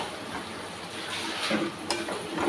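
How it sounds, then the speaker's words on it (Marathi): Potato pieces sizzling in hot oil in a pan while being stirred for a potato curry, a steady close hiss with occasional scrapes and clinks of the spoon. "आता बटाटा छान असं तेलात फ्राय झालाय"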